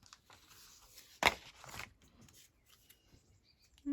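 Scissors cut through altered packaging for a craft envelope with one sharp snip, followed by softer rustling and handling of the material at close range in a quiet room.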